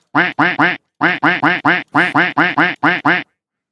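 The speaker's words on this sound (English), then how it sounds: "That's a duck." Duck quack sound effect, a loud, close series of about fourteen sharp nasal quacks in quick bursts of two to four, separated by short silences, with no other sound.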